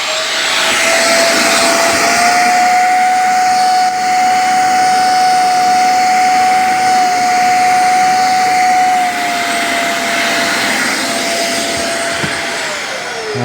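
An old Shark CarpetXpert EX201 and a new Shark Hair Pro EX251 carpet cleaner run together indoors, giving a loud, steady whine and whoosh of motor and suction that holds throughout with no voices.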